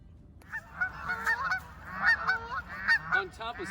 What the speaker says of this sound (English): if you're looking for Canadian geese, you've come to the right place